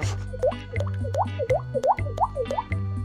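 A voice imitates water droplets, making a rapid series of about seven clear, close, rising plop sounds with his mouth.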